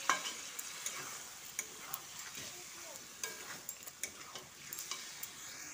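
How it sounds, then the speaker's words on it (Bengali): Chicken frying in a pan with masala spices is stirred, and a spoon scrapes and taps in irregular strokes over a soft, steady sizzle, heard fairly faintly up close. "এবার চিকেনটা মশলার সঙ্গে খুব ভালো করে কষিয়ে নিতে হবে।"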